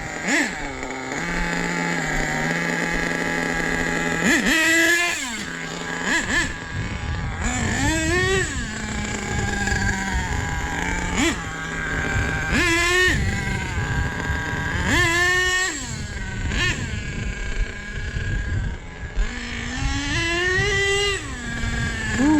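A nitro RC car engine, fitted with new clutch bells and spur gears and running a new fuel mixture, idles with a buzzing tone. It is repeatedly blipped into sharp, rising revs that fall back to idle, loud and close for over twenty seconds.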